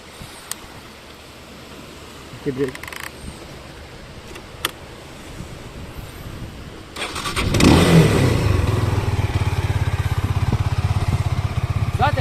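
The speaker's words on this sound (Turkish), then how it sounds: "motor tek silindir olduğu için fıtı fıtı fıtı fıtı diye çalışıyor" A Benelli BN251 250cc single-cylinder motorcycle engine starts after a few seconds of quiet background, then settles into a steady, fairly loud idle that runs close by with no talk over it.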